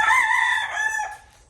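A farm rooster lets out a single loud, close crow that rises, holds and trails off over about a second, with faint low clucking from other chickens underneath.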